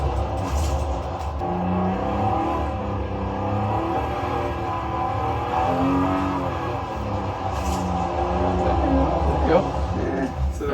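An R32 drift car engine in a racing sim game, revving and holding steady under throttle modulation, with people talking over it throughout.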